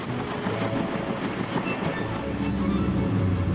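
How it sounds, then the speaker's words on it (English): An Alaska Railroad passenger train rolls along with a continuous close rumble and rhythmic rail clatter, steady and fairly loud throughout. "you will board the Alaska Railroad for a scenic and enjoyable train transfer to Anchorage"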